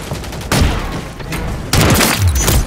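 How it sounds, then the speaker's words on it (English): A stun grenade goes off in Call of Duty MW3 on a small map: two sharp, loud blasts land about a second apart, each followed by a harsh, ringing wash of noise. "Stun grenade!"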